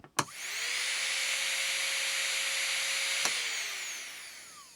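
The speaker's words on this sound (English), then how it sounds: "We'll turn it up to max RPMs and let's listen to it." A high-pitched whine of a Marathon 4 micromotor rotary tool spinning at full speed, steady and loud after a click at the start, ending with another click.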